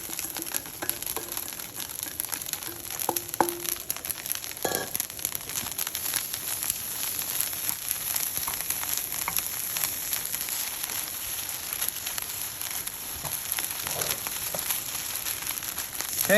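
Pork and onions, stir-fried earlier, are added back to a hot pan for Chinese takeout-style pork fried rice, giving a steady broadband sizzle with crackling and scraping clatter throughout, fairly close and continuous, with no talking.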